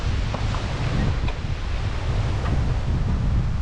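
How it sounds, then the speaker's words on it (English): A strong gale blows across an outdoor camp, a loud continuous roar of wind buffeting the microphone with no break. "Blowing a gale"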